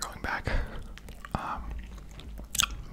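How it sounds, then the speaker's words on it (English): Extra White mint gum being chewed close to the mic, with wet, smacking chews and soft clicks in an irregular rhythm, mixed with quiet whispered talk. "I'm chewing some extra gum today."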